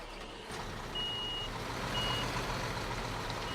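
Truck reversing beeps in the Construction Simulator video game: thin, steady tones repeating over a constant low engine rumble, at moderate distance with no talk.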